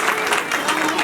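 Guests at a Nepali Christian wedding in a church clap in welcome, a brief burst of many hands clapping together, fairly close and lively, with faint voices mixed in.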